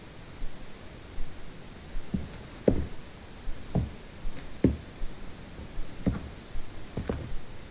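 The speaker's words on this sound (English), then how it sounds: "So you can hear those knocks there." Knocks captured on a sound recorder during a Hop tu Naa night at Milntown, about seven faint, evenly spaced raps sounding alone over a steady background hiss.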